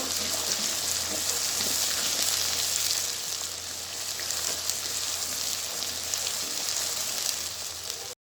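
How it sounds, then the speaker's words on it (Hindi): Garlic and ginger fry in hot oil in a pan with a loud, steady, hissing sizzle that never lets up, easing slightly about halfway through. "इनको हम तकरीबन 2 से 3 मिनट भूनेंगे लहसुन अदरक को"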